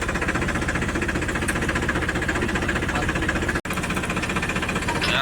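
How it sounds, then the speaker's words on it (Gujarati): A tractor engine runs steadily on a farm at wheat-sowing time, a loud, close, continuous rhythmic diesel chug and knock with no talk. "સંધુભાઈ ટ્રેક્ટર આગ્યા છે"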